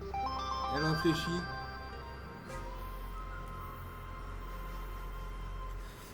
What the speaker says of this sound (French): Ça c'est juste mon téléphone qui me dit bonjour